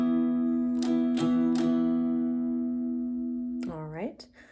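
A steel-string acoustic guitar rings out a sustained chord for a strumming pattern, with a few distinct strums at the start and a fading ring before a final scrape.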